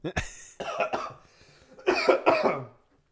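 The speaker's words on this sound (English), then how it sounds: "As I start coughing" Several sharp coughs close by, a quick burst of three followed by a pause and then two or three more heavy coughs.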